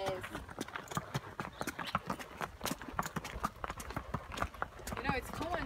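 Horse hooves clip-clopping in Entebbe, Uganda, with quick, irregular close hoofbeats as a horse moves at a brisk pace, while people talk over them.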